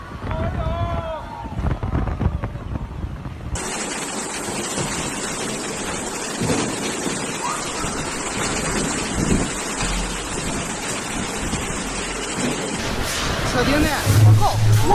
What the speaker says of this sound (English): heavy rain flooding the runway and strong winds blowing